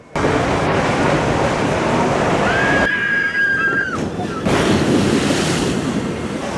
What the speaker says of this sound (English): And to finish off the trio of water rides, Menhir Express. It's a log flume.